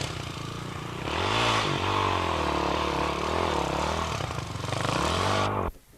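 Kawasaki motorcycle racing at Rhayader, engine revving loud and close with rising and falling pitch as the rider works the throttle, other engine noise behind, cut off sharply at the end.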